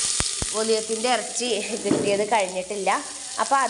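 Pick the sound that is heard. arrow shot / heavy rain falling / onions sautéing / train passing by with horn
onions sautéing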